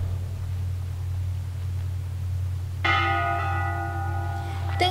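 A bell in the Layers of Fear 2 video game rings once with a clear, loud tone that starts partway through and holds with a lingering resonance over a low steady hum.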